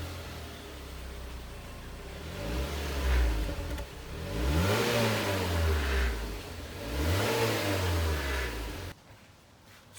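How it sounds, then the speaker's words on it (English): 2011 Mazda 6 with a 2.5L engine and new exhaust, stationary, revving up in three rising and falling sweeps, deep and fairly close, each swell of revs holding briefly before dropping back to idle. "Today we have our 2011 Mazda 6 and we're trying to improve the exhaust sound."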